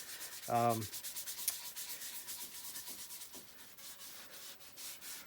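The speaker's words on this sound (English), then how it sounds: "I'm now putting on my Axe abrasive paste." Soft, steady rubbing as abrasive paste is worked by hand onto a turned wooden yarn bowl sanded to 320 grit, a faint rhythmic scrubbing that runs the whole time, with a short tonal blip near the start.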